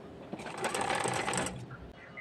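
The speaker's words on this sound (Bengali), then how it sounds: "এখানে গলার অংশ আমি সম্পূর্ণটা সবটা এভাবে সেলাই করব" A sewing machine stitches the folded neckline of a child's frock, a brief steady whirring run that slows and stops, heard close at a moderate level.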